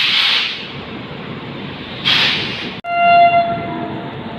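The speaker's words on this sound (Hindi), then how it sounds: "12:15 पर हमारी राजधानी एक्सप्रेस लुधियाना स्टेशन से निकल चुकी है।" Rajdhani Express pulling out of Ludhiana station, heard from inside the train: steady loud rolling rumble with a long horn blast partway through, then a sustained tonal horn or whistle near the end.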